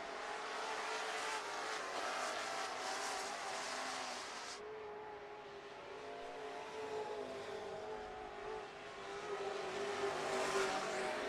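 Stock cars racing at Miller Central Speedway, a sustained roar of several engines sweeping past and fading around the oval, loud and continuous with a brief drop midway before rising again as the pack returns.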